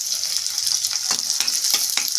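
Chopped onion and garlic fry in hot oil with a steady crackling sizzle, punctuated by a few sharper bursts and scraping stirs, close and fairly loud, with no voices.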